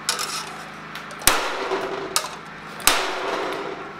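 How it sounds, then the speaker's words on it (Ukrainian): Hammer striking a cold VT5-1 titanium armor part: three sharp metallic blows spaced about a second apart, each a bright clang with ringing decay, close to the microphone, alongside fainter taps and handling noise. "Беру молоток і б'ю."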